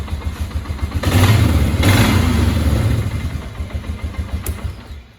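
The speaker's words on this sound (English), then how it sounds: "We'll go ahead and shut it off here and give it a quick rev." A 2004 Polaris Sportsman 500 ATV engine idles with a steady low thump, then revs up sharply twice. Each surge rises loud and close and falls back to idle.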